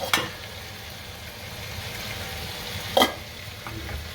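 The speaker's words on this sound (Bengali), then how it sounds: "মশলাটা সব পেঁয়াজ টমেটো এগুলোর সাথে মিশে একসাথে একটু হালকাভাবে নাড়াচাড়া দিয়ে" Spices cooking with onion and tomato in a pan for a kachki fish curry, a soft continuous sizzle with a couple of sharp scraping stir strokes, close by and without speech.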